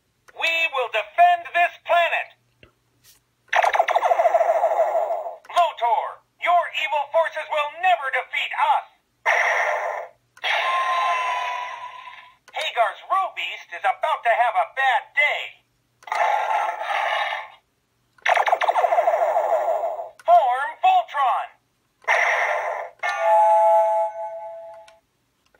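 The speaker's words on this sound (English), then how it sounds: "your main button right here, which does a lot of the sounds and a lot of the sound effects and phrases and stuff" A Voltron Classic Legendary Black Lion toy plays a run of electronic sound effects and recorded spoken phrases through its small speaker. Loud, tinny bursts of varying length are separated by short silences.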